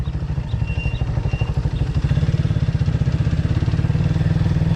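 A motorcycle engine runs continuously while climbing a hill, a loud, close, throbbing drone with a rapid pulsing beat that grows steadier as it labors upward.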